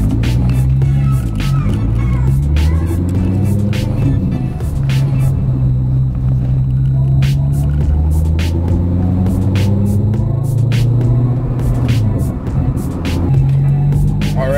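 Interior of a manual-transmission Chevrolet Corvette of about 530 horsepower driving, with a steady, loud engine drone and rumble whose pitch rises and falls through the gears, while people talk over it.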